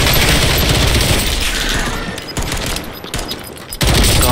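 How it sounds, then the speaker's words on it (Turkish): Call of Duty Warzone gunfire roars in dense, loud bursts of rapid automatic shots and heavy booms, nearly continuous with a short lull before another loud volley. "Başka biri bana sıktı."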